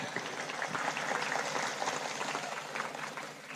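An audience at a PBB anniversary religious gathering gives a sustained round of applause, a dense, fairly faint crackle of many hands clapping steadily for several seconds.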